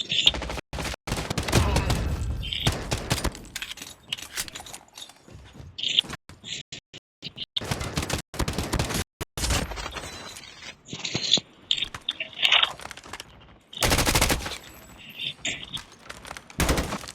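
Call of Duty battle royale gunfire comes in rapid bursts and automatic volleys, with gaps between them and some glassy impact sounds, loud and close.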